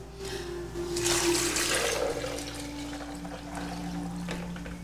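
Five cups of water pour steadily into a blender jar for homemade almond milk, a rushing splash that swells then settles into a lighter trickle, close up with a faint background hum.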